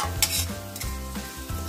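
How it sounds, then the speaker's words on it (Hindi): Red chili powder and garam masala frying in a pan for samosa potato filling, a close, continuous sizzle with repeated scraping stir strokes at a steady rhythm. "इसको थोड़ा सा भून लेंगे"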